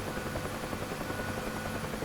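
UH-1H Huey helicopter in the DCS flight simulator, its rotor and engine making a loud, steady, dense whir that fills the clip with no pauses or talk.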